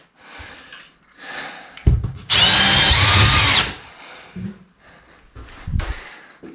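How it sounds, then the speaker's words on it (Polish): Cordless power screwdriver driving screws into plasterboard around a roof window, a loud steady whir of about a second and a half between shorter bursts and handling knocks. "jedyne, co zostało, to to przykręcić"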